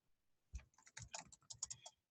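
A short burst of typing on a computer keyboard, a dozen or so crisp, close key clicks in an uneven rhythm against near silence.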